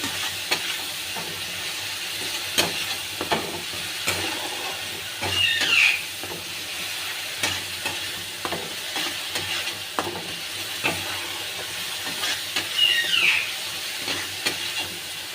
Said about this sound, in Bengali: যতক্ষণ না তেলটা বেরোয় আমি ততক্ষণ একটু কষবো।